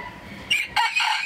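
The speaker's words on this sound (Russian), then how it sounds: "Сибрайт золотистый." Golden Sebright chickens at a zoo in Bakhchisaray, Crimea, give a few short, clear clucks in quick succession, fairly close and alone.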